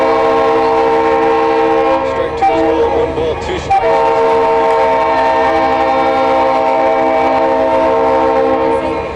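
A train sounds its horn while passing near a college baseball field during a game, the long steady horn blast loud and continuous throughout, with a play-by-play announcer talking faintly over it.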